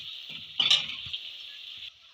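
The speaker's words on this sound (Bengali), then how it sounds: "তার জন্য আমি মাছের তেলটা দিয়ে দিলাম।" Fish oil poured into a hot pan for a Bengali fish curry with bori, gourd and Malabar spinach, a brief burst of sizzling and hissing that settles into a steady fry before cutting off.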